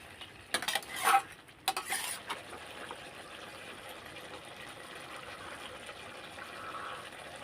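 Chicken stirred and fried in a pan: a burst of metal utensil clanks against the pan early, then a faint, low sizzle running on alone.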